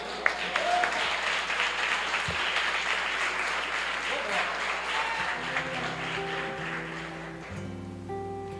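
A church congregation claps during a celebration service, a broad steady patter of applause under voices, thinning toward the end as organ-like sustained tones enter.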